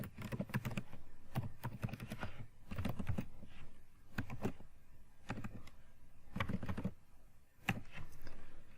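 Typing JavaScript code on a computer keyboard, short clustered runs of crisp, close key clicks with brief gaps between words, alone with no talking.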